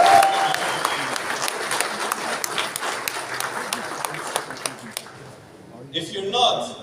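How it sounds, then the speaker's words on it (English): A room of people at a motivational members' meeting claps loudly and steadily for about six seconds, dense broadband applause that thins out near the end as a few voices come through. "Is that something to applaud?"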